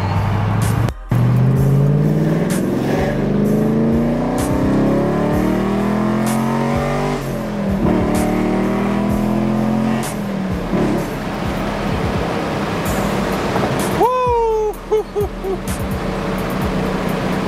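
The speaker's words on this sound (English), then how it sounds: "Gotta love the pops." A Vengeance Racing-built Chevrolet Camaro 1LE making about 500 rear-wheel horsepower revs loudly, its engine note rising and falling through several pulls before crackling exhaust pops burst out as the revs drop.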